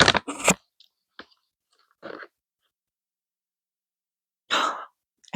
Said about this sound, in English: seaweed chips.